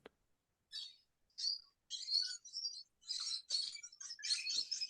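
Outdoor birdsong made up of a run of high chirping, warbling phrases that come in quick successive bursts and grow busier toward the end, clear and near against a quiet background.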